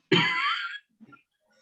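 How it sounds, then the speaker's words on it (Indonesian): A single harsh cough bursts out nearby, followed by a brief faint throat noise, during an online exam review session. "Belum ujian kok wis batuk-batuk."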